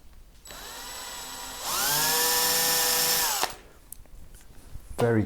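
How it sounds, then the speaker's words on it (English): Power drill boring into a guitar headstock for a Telecaster-style build: a whining motor spins up, rises to a higher steady pitch as the bit cuts for a couple of seconds, then stops, followed by faint handling sounds. "Very carefully drill into the headstock"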